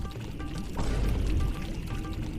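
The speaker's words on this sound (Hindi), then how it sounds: "गलती से पेशाब कर दिए" A person urinates outdoors in summer heat, making a steady, fairly loud splashing pour of liquid that swells partway through and keeps running.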